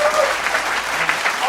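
Audience applause from a podcast crowd, a steady dense wash of clapping hands that holds throughout, with voices talking faintly underneath.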